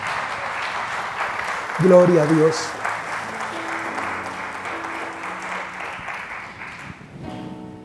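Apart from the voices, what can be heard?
applause in church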